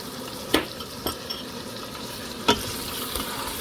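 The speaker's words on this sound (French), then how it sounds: "Et on mélange le tout." Rice and mutton with homemade seasoning being stirred in a pot: a soft sizzle with several distinct spoon knocks and scrapes against the metal.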